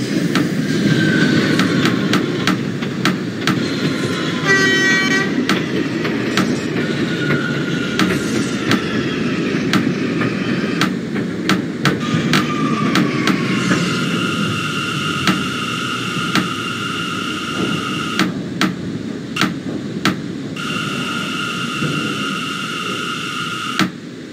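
R179 New York subway J train in the OpenBVE simulator, running toward Manhattan: a constant loud rumble of wheels on rail with motor whine, clicking rail joints and whirring electric tones rising and shifting as the car accelerates, with no talking.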